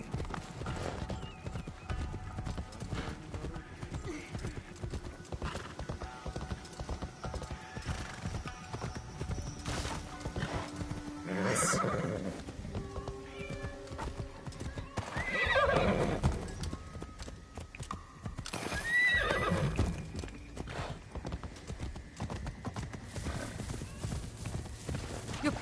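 Horse hooves clip-clop steadily in the video game Assassin's Creed Shadows, with a few loud neighs and whinnies breaking out over the steady hoofbeats.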